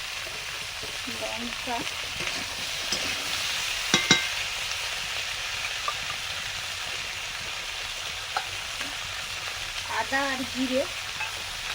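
Vegetables with chopped jackfruit seeds, turmeric, salt, chilli, ginger and cumin sizzle steadily in a pan, with light stirring clinks and a voice speaking over the frying.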